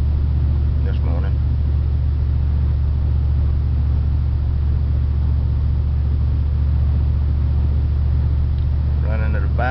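Wood-gas powered vehicle engine at low throttle, a steady, loud low-pitched drone with road rumble throughout, with brief speech near the start and end.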